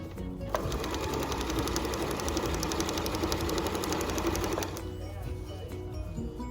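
A sewing machine runs a steady, close stitch along a long skirt seam on a maxi skirt, humming continuously for about four seconds before stopping and leaving quiet room tone.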